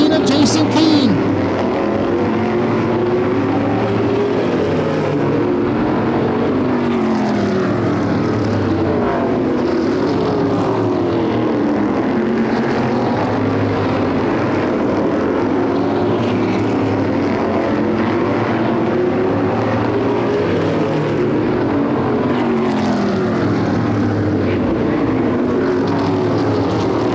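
OSCAAR Modified race cars lapping Flamboro Speedway in a 40-lap feature, a steady loud engine roar with rising and falling passes under continuous race commentary.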